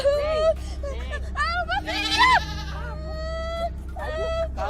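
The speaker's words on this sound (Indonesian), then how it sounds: "Tuh kambingnya tuh." A goat bleats repeatedly in a wavering cry, close and fairly loud, over a low rumble with a crowd's chatter and several voices talking around it.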